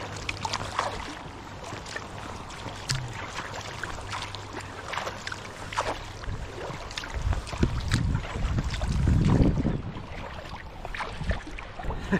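Small boat rowed upstream against a river current, with rhythmic oar strokes and water splashes over a steady rush of water and light wind, strongest toward the end.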